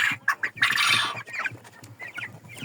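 Chickens and quail in a poultry pen cluck and squawk in quick, close, uneven bursts, with one louder, drawn-out squawk among the softer clucks.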